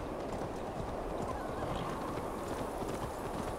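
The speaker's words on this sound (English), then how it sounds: "I'll just take one of these horses for a change." Continuous dense hoofbeats of a horse trotting in the video game Assassin's Creed Valhalla, a steady rhythmic clatter at an even level, with no talking.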